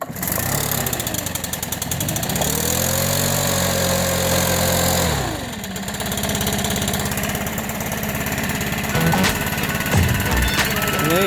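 A small petrol engine runs loudly and close by after a pull start, a brief dip in revs midway before it settles into a steady, rattling idle.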